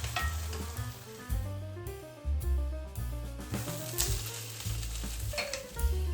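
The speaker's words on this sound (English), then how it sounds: "You can fry it without oil. Then place the tortilla on the other side." A tortilla frying in a pan without oil beside meat for a shawarma sandwich, a steady close sizzle and crackle with occasional soft scrapes and shifts, no talking.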